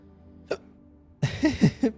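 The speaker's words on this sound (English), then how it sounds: "my hiccups are back" A person hiccups during a game session: one sharp hiccup, a pause, then a quick cluster of voiced, throaty hiccup bursts up close.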